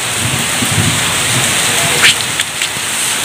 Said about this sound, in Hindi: ये कितनी तेज बारिश हो रही है यार